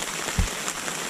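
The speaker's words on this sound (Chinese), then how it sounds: "现在外边雨下的还挺大的" Heavy rain pours on a tent at night at a lakeside campsite at Kinney Lake, Canada, a dense steady drumming with a single low thud near the start.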